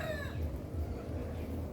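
An imported Texas fighting cock crows once at a short distance. The crow is a rising, strained call over steady outdoor background noise.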